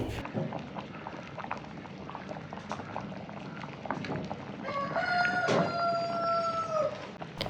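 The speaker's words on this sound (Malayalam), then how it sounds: "അപ്പോൾ കറി ഒന്ന് നന്നായിട്ടൊന്ന് തിളച്ചൊന്ന് റെഡിയായി വരട്ടെ" A pot of fish curry bubbles and simmers steadily up close, with a rooster crowing faintly in the distance partway through.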